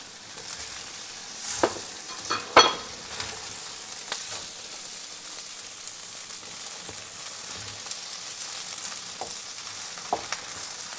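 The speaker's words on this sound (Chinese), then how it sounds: "咁一路炒咧，一路篤篤下啲飯啦。" Rice with Chinese cured meats is stir-fried in a wok over medium heat, a faint steady sizzle with a few louder clatters and scrapes of the spatula early on, then quieter intermittent ticks.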